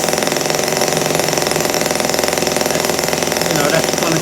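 A Stirlingkit N12b Stirling engine runs steadily with a dense, rapid mechanical chatter, held low under load and close by.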